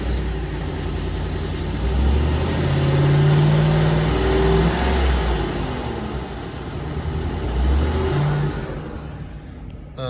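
A 2011 four-wheel-drive Lincoln Navigator's engine turns over and settles into a steady, loud idle with low rumbling hum and slight swells, heard close with no talking.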